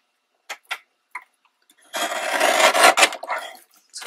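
Paper scraps being trimmed for junk-journal pocket hearts: a few short, crisp snips, then a longer rough burst of cutting and rustling close by, with no talk.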